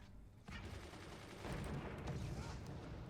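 Sniper rifle shots in the video game Forts sound as a few sharp cracks over a rumbling battle backdrop, moderately loud, without speech.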